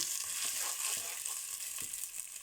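Minced meat frying with browned onions in a pan for keema pilau, giving a steady close sizzle with faint stirring scrapes and no voices.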